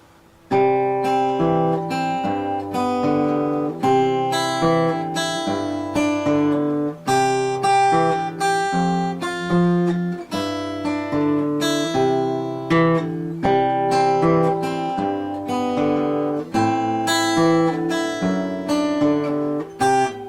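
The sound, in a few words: fingerpicked guitar playing chords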